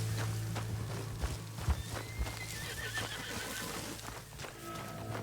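A horse in the video game Red Dead Redemption 2 whinnies and snorts amid clip-clopping hooves, against a steady low background hum, with no talk.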